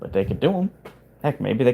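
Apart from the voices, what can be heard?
No everyday noises stand out.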